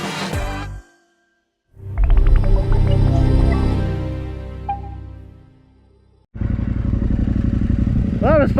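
A Yamaha Tenere 700 motorcycle engine roars in two long bursts of revving and acceleration, loud and close, separated by a short silence.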